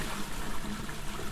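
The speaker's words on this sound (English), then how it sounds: "You can actually flush things down the toilet." Toilet flushing in the video game INFRA: a steady, moderately loud trickling and rushing of water running through the bowl, continuous and alone for the short span.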